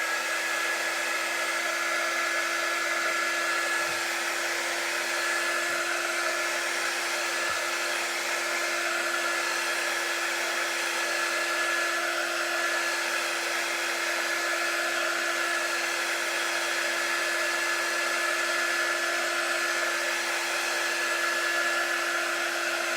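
A hair dryer blowing over a chalk paint transfer on a DIY autumn craft piece, a continuous steady whooshing hum at close range, unbroken for the whole stretch with no talking.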